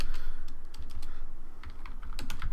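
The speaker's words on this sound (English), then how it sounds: "So I'm just going to type in here," Rapid typing on a computer keyboard, a close, fairly quiet run of crisp irregular key clicks over about two and a half seconds with no talking.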